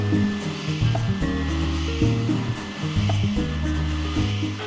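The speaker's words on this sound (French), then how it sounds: "Je ponce les côtés pour égaliser et enlever les marques de brûlure." Sanding the sides of a wooden push block for a jointer, smoothing them and removing burn marks; a steady, loud power-sander whir runs throughout with rhythmic scraping pulses as the block is worked, no talk.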